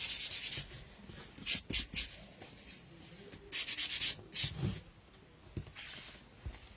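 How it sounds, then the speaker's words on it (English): Sandpaper rubs over the painted faces of small wooden craft figures in short bursts of scratchy strokes, some quick and some longer, quiet and close with pauses between. "I'm going to go ahead and give their faces"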